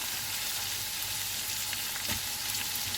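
Leek frying with golden-browned onions in a pan, a dense and even close sizzle with faint stirring scrapes, no voices.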